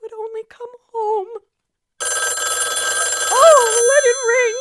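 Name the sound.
telephone bell ringing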